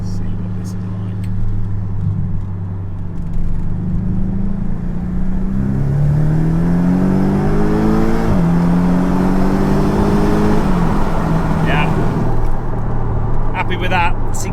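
A Porsche 718 Boxster GTS with a new Milltek exhaust revving loudly up close, deep rumbling tones climbing and falling through several blips, then settling back to idle, with someone talking over it.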